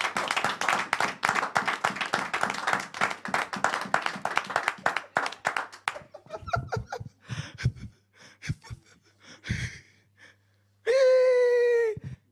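A church congregation applauds with dense, rapid clapping that thins into scattered claps and breathy sounds, then a sustained tonal note cuts in at the end.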